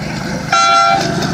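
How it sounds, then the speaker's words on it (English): A small train toots its horn once, a bright sustained tone lasting about half a second, amid mall background noise at Yorkdale in Toronto. "look at the train"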